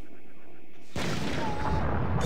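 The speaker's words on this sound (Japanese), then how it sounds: "爆発したんだけど。" A sudden explosion bursts out in the Pikmin 3 video game after a quiet stretch, a loud broadband blast that rolls on as a sustained roar and rumble to the end.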